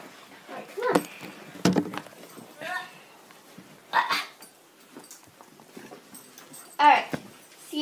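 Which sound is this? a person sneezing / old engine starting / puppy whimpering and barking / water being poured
puppy whimpering and barking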